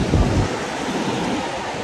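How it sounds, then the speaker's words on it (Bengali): Ocean waves break on the beach at Cox's Bazar, a loud, steady wash of surf with wind rumbling against the microphone and a heavier low thump at the start. "ঢেউয়ের সাউন্ড কি দেখছেন?"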